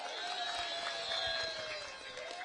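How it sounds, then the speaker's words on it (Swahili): A political rally crowd at Kamukunji in Nairobi cheers and claps, a brief burst of massed voices and whistling with applause underneath, fairly distant and held at a steady level. "Mchipigie makofi jamani."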